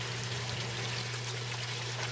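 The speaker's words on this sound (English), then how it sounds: "So the water enters the system," Water pours steadily into an aquaponics tank in a greenhouse, a continuous even splashing rush with a constant low hum beneath it, no pauses.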